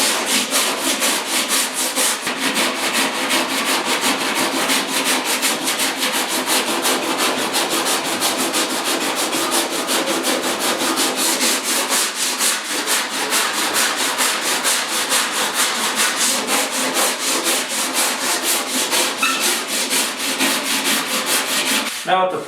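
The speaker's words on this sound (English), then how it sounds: "take my time to sand this. I'm not going to sit there and go down as hard as I can." Coarse 40 grit sandpaper rasps across a fiberglass Porsche 911 decklid in fast, even back-and-forth strokes, loud and close, continuing without pause and with no talking.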